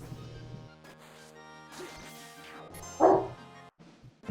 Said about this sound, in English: Wish that dog would stop barking.